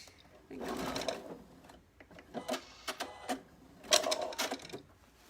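A sewing machine stitches a t-shirt bodice onto a skirt for a child's t-shirt dress, running in a few bursts of rapid mechanical whirring and clatter separated by brief pauses, close and fairly loud, with faint voice sounds in the background.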